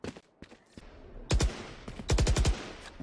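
Valorant gunfire during a tournament match, two sharp shots followed by a rapid burst of five or six, loud and close, with a steady hum of background noise around them.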